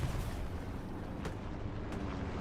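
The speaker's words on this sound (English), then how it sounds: "Rockets coming in" Rockets exploding in the Hell Let Loose video game, a dense, continuous rumble of blasts with a couple of sharper bursts cutting through, loud and sustained with no talk.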